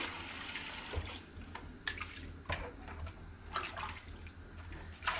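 Vine leaves rinsed under running tap water in a home kitchen for stuffed grape leaves, with a steady splashing stream broken by several louder splashes and knocks as the leaves are handled, close by and with no voices.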